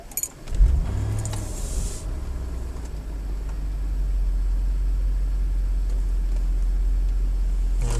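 A Mercedes S55 AMG with a failing 722.6 automatic gearbox conductor plate is restarted, with a brief jangle and cranking catch, then the engine settles into a steady, close idle that holds alone.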